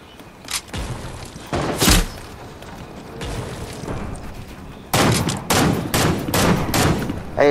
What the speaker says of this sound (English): Hey, Bob, stop shooting.